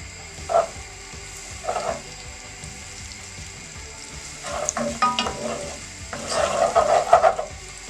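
Salted butter melting in a pan, sizzling steadily with scattered crackles that swell into busier bursts near the end, with soft stirring scrapes and no talk.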